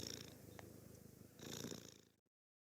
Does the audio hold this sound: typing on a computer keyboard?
no